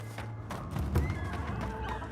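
A chicken in the video game Avowed gives a few short clucks close by, mixed with soft thuds and game ambience.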